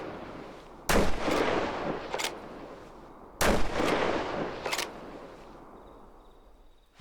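A hunting rifle in the video game Way of the Hunter fires off its remaining rounds: two loud, booming shots a few seconds apart, each with a long rolling echo and lighter mechanical clacks in between.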